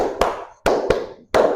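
A classroom group claps in rhythm, with sharp hand claps landing in short bursts that are separated by brief pauses, loud and close, with no talking.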